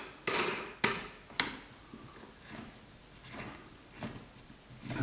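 A ring nut being screwed down onto a stainless steel filter plate in a Speidel Braumeister 10L brewer, with three sharp metallic clicks close together at the start, then faint handling noises.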